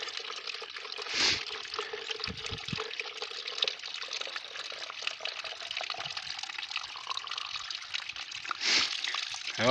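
Water trickles and splashes from a small stream at a summer wild camp in the Lake District, a steady close babble with a few louder gurgling bursts and no talking.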